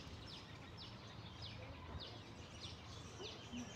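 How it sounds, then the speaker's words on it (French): Birds chirp faintly outdoors near a tree full of nests, short repeated high calls at a steady pace over a constant low background hiss. "Je ne sais pas si vous entendez les oiseaux."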